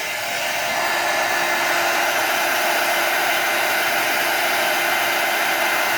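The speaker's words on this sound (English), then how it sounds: "let me go ahead and show you how to do that with the heat gun" A heat gun blows steadily at close range for the full stretch, heating embossing powder on a rubber-stamped image; the broadband whoosh stays loud and even, with no talking over it.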